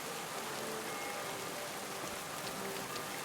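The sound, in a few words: rain in video game Kingdom Come: Deliverance II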